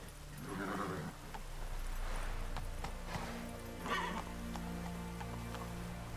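A horse in The Witcher 3 video game whinnies twice amid a continuous clatter of hooves, loud and close, with game music or ambience underneath.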